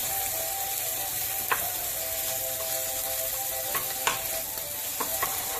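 Garlic and onions frying in a pan, a steady close sizzle with a few sharp scrapes and taps of stirring scattered through.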